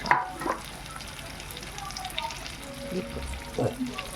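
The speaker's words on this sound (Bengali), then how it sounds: "পুরো ম্যারিনেশনটা চিকেনের মধ্যে আমি দিয়ে দিলাম আবার ভালো করে নাড়িয়ে চাড়িয়ে নিতে হবে" Chicken pieces coated in marinade frying in a pan for restaurant-style chicken chap, a steady soft sizzle with a few scraping stirs and light clinks, close and moderately quiet, no talking.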